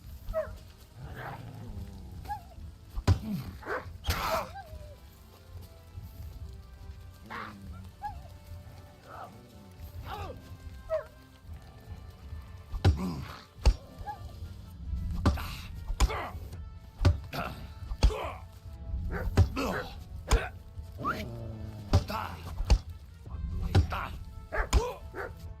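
A dog in a video game barks and yips repeatedly in sharp bursts, over ongoing game sounds and thuds, with a person talking throughout.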